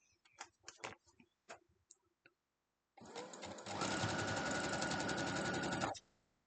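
A sewing machine stitches a quilt block with a quarter-inch foot, a few soft clicks first, then about three seconds of fast, even whirring that starts up, speeds to a steady hum and stops cleanly.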